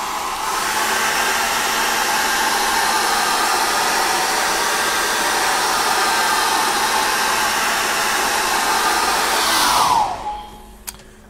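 A hair dryer blows steadily and loudly on the edge of an acrylic painting on an oval canvas, a constant whooshing roar for about ten seconds before it is switched off and winds down.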